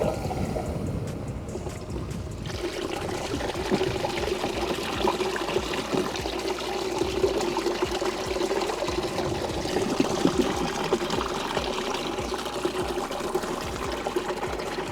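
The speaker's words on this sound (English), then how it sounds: "next step is to put our pump in the water, like so, and then we can turn the pump on" Water rushes and splashes steadily through a recirculating gold-prospecting sluice once a submerged pump is switched on, a continuous close gurgling flow with a brief quieter moment at the start before the full stream settles in.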